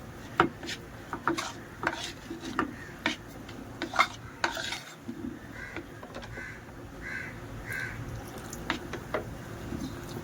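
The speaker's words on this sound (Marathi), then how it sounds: "हे सगळं असं मिक्स करून घेऊया." Chicken lollipop batter is stirred in a bowl with repeated soft scraping and clinking strokes in an uneven rhythm, and crows caw faintly in the background.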